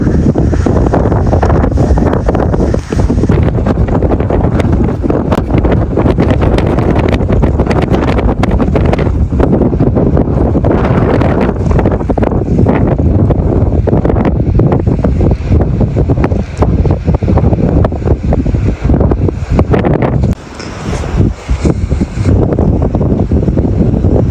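Loud, continuous coastal wind at the Carrick-a-Rede rope bridge in County Antrim, Northern Ireland, buffeting the microphone, a heavy roaring rumble that barely lets up for the whole stretch.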